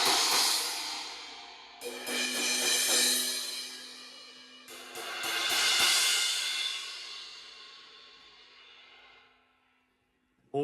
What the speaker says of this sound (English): So this is the sound of the crashes.